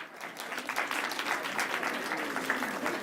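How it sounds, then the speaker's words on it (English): An audience at a Spanish-language workshop claps steadily, a dense, continuous wash of many hands heard from within the room, with no talk over it. "Round of applause, please."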